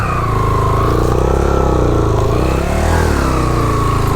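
A motorcycle engine revs steadily and loudly up close while the bike is stuck on a rough mountain track in Utror Valley, Kalam Swat, a continuous throbbing drone rising and falling slightly.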